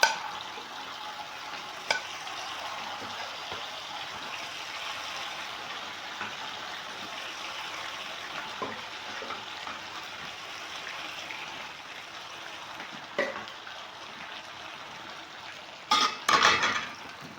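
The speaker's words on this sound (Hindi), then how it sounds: "अब जो साग है इसमें ये डालते रहेंगे" Mustard greens tipped into garlic frying in a pan and stirred, giving a soft continuous sizzle with occasional scrapes of a utensil and a few sharper metallic clatters toward the end.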